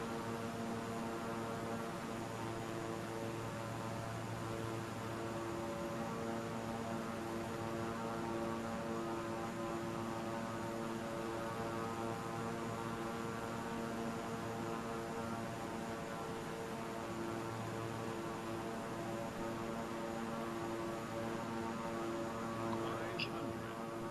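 Propeller airplane engine in Microsoft Flight Simulator 2020, flying over Los Angeles: a steady, loud droning hum with layered tonal harmonics that holds throughout, and a voice talks faintly over it.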